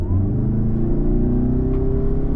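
Engine and road rumble from a 2023 Toyota Camry hybrid with an eCVT accelerating hard, a loud, steady, close drone with a slowly rising pitch and no talk over it.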